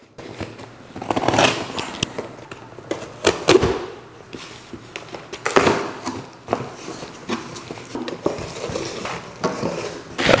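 A knife slices open a cardboard box holding a red laser hair growth hat: uneven scraping, tearing and rustling bursts with scattered clicks, close and fairly loud, with no voices.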